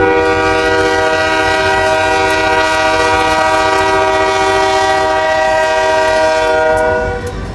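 Loud, sustained horn blast from a train at St. Paul Union Depot, a rich chord held for about seven seconds over a low rumble of rolling cars before cutting off; no voices.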